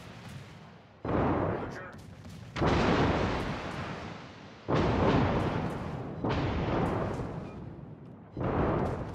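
Naval guns in the World of Warships video game fire five heavy, booming salvos a second or two apart, each a loud blast with a long rumbling tail, and a voice briefly speaks between them.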